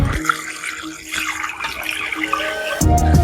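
Water is poured onto a young plant in a village garden, a steady close splashing and trickling that grows louder and fuller at the end.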